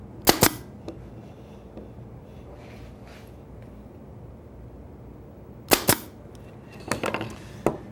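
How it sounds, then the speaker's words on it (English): A 22 gauge pneumatic pin nailer running on compressed air fires a few pins into wood, each shot a sharp, isolated snap: one near the start and a quick cluster near the end, over quiet room tone. "Another way you can do the same thing with a mechanical fastener, isn't quite as obvious, is with a pin nailer."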